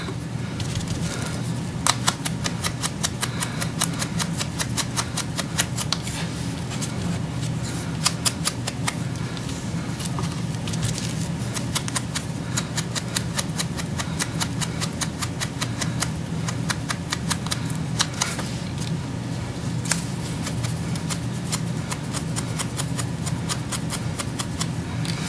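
Sponge dabbing ink onto pink Pirouette cardstock paper flowers while crafting a tiny box: repeated soft, brief taps and rubs over a steady background hum, with no talking.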